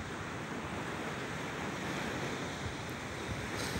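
Sea waves washing onto a long sandy beach at Malinovka near Zelenogradsk, a soft, continuous broad surf rush mixed with wind, faint and steady throughout.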